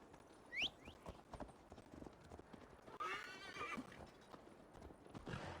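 Rhythmic hoof clip-clops from a ridden horse in Assassin's Creed Valhalla, with a sharp whinny early on and a longer neigh midway, fairly close over quiet ambient noise.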